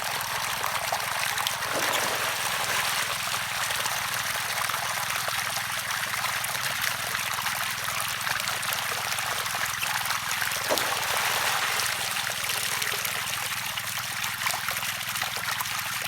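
Steady, continuous rush of water being pumped into a pangola grass field, a loud unbroken flow with no pauses and no talking.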